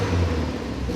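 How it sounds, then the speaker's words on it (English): A VW Golf mk2 with a 2.0 16V engine revs up in a short throttle blip, a close, steady mid-pitched engine roar filling the brief moment. "You can see here the AFRs when I blip the throttle."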